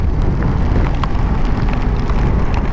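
Heavy rain and wind roar steadily and loudly throughout near a roadside army checkpoint on a motorcycle tour from Turkey into Iran, a dense, unbroken wash of noise with no voices.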